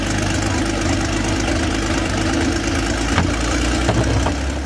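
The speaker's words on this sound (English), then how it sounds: "Think of the Maybach HL230 as the high-performance powerhouse of its time." A massive 23-liter Maybach HL230 V12, rated near 700 horsepower, runs at a steady idle with a deep, continuous mechanical drone and a few faint knocks near the end.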